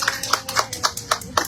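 Several people at a press conference give a brief, sparse round of hand claps, distinct individual claps in an uneven rhythm for about a second and a half.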